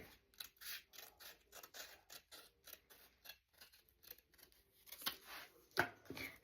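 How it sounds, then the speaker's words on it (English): Scissors cutting paper for a junk journal, a quiet, rhythmic series of close crisp snips, each with a short slicing rasp, building to a few sharper final cuts. "you're going to cut it to fit the side"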